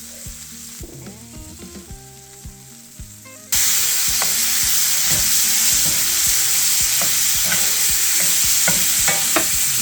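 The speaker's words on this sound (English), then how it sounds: "first we'll start by browning our ground beef and the onions in a skillet" Ground beef and onions brown in a skillet with salt and pepper, a steady loud sizzle with a spoon stirring and scraping. The frying starts quieter at first, then jumps louder partway through and holds that level to the end.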